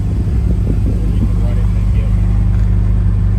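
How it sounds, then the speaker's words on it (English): Porsche race car engine idling steadily during a coolant system procedure, a low constant droning hum with a voice talking over it. "Got the car running."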